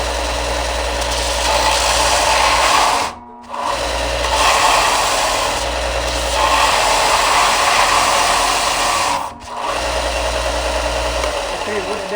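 A Harbor Freight Bauer belt sander grinding a piece of 2x4 under pressure, giving a loud, steady motor roar with two brief dropouts where it stops and restarts.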